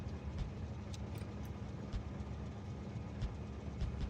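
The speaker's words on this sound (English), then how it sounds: "You can hear the train idling." A train in the video game Factorio idles with a steady, low mechanical rumble and hum, holding constant throughout with only faint ticks above it and no talking.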